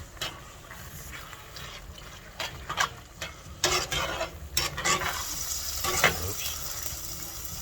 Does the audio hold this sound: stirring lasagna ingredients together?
yes